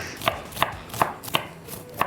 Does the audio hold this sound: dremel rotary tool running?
no